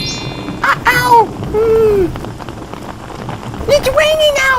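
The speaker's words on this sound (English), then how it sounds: "It's raining out." Steady rain falls outdoors, a continuous close hiss of drops on surfaces, with children's voices and squeals rising over it at moments.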